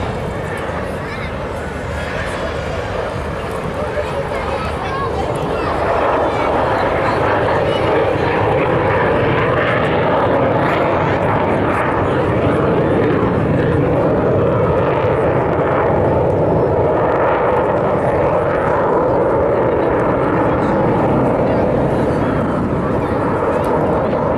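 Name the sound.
Avro Vulcan bomber flypast at Scottish Airshow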